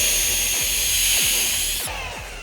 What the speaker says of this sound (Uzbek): Birinchi bo'lib devorni perforatorda teshib olamiz.